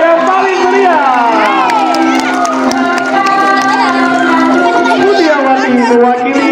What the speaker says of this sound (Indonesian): Beri tepuk tangan untuk Ibu Mutia yang paling meriah.